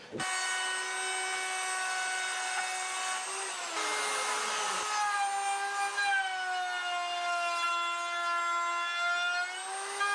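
A table saw rips a wooden board guided along the fence, its loud steady whine holding throughout and dipping in pitch briefly as the blade bites into the wood, with no voices.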